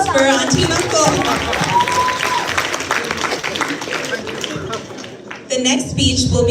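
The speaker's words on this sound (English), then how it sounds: "Another round of applause for Auntie and Uncle." Guests at a wedding reception break into applause, a dense patter of clapping under crowd chatter and voices that carries on for several seconds with a brief dip near the end before swelling again.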